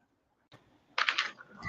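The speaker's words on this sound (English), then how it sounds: "this is why I got my keyboard" Typing on a computer keyboard, starting after a short silence with a soft click, then a close burst of quick keystrokes followed by continued clattering, with no voices.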